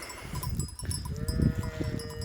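Sheep bleat close by over a steady rumbling background, with several drawn-out calls overlapping in the second half.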